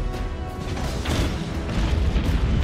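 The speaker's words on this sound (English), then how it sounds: "launch the killing blow with our powerful short-range cannons" Short-range ship cannons fire in the Abandon Ship naval combat video game, a dense rumbling barrage of deep booms and crashing impacts that rolls on continuously and loudly without a break.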